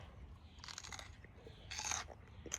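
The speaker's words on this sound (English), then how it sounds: "I won't make you listen to me chew the whole thing" Someone bites and chews a fresh snap pea picked from a home garden, with two distinct crisp crunching bursts and softer chewing in between, close and fairly quiet.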